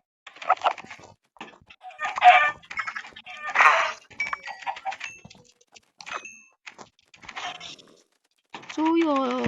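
Small chicks cheep in high, short peeps, scattered and close by, mixed with clucking hens and people talking.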